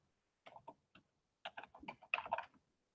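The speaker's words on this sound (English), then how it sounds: "let me go ahead and type it in the chat" Keys clatter on a computer keyboard in short, uneven bursts of quick taps with brief pauses between them, close and quiet against near silence.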